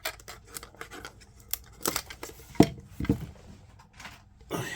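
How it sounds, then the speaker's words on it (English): Scissors snip through packaging on a Costco five-tin pack, giving a few crisp, close cuts spaced over a few seconds amid light rustling, with no talk. "I have scissors here."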